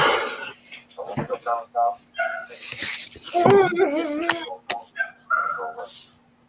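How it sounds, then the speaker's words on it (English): Dogs whimpering and whining in the background of a live online talk show, thin high whines surfacing now and then beneath steady conversation between several voices. "who has dogs in the background?"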